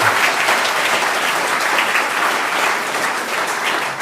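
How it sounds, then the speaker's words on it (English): At a political party conference hall, the audience gives a full round of applause, thick sustained clapping that fills the room evenly and stays loud from start to finish. "I think you should all give yourselves a round of applause for making it here"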